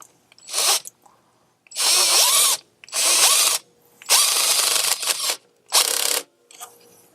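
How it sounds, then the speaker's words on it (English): A hose clamp being tightened on an intake coupler during a Pusher intake and charge tube install on a 2004–2010 GM Duramax, heard as close, loud bursts of a whirring power driver in several runs of about a second, separated by short pauses. "We can also tighten this clamp as well"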